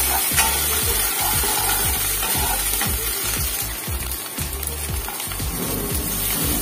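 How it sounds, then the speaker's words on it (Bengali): Ground ginger paste sizzling in a hot pan while a utensil stirs and scrapes it, loud frying hiss broken by regular scraping strokes throughout. "আদাটা বেটে রেখেছিলাম, আদাটা একটু কষিয়ে নিতে হবে"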